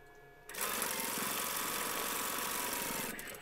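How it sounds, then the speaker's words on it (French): A sewing machine runs steadily for about three seconds, stitching a fabric strip onto a reversible patchwork bottle bag, with a continuous close mechanical whir and no talking over it. "Vous allez donc maintenant venir coudre"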